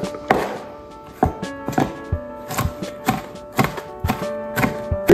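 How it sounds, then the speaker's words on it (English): Knife chopping carrots into small pieces on a board, a brisk series of sharp, close chops in an uneven rhythm with short pauses between bursts. "chop them a bit more"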